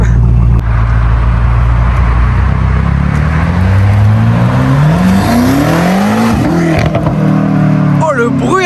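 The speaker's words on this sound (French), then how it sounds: "quand elle a passé le rapport là, ça a fait un vrai beau bruit" BMW M5 Competition LCI with a stage 1 tune and full Akrapovic exhaust accelerating hard, engine note climbing through a gear change, loud and close inside the cabin with a voice speaking over it.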